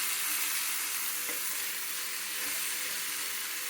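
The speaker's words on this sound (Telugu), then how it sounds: "ఇందులో పచ్చివాసన పోయే వరకు వేయించుకోవాలి." Ivy gourd, brinjal and green chillies with cumin, turmeric and salt fry in a pan with a steady, soft, even sizzle and a faint stirring scrape or two.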